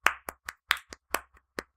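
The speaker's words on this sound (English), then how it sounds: "let me clap to indicate the start of the take." Several sharp hand claps marking the start of a take, seven or eight quick, close, dry slaps in an uneven rhythm, with no other sound between them.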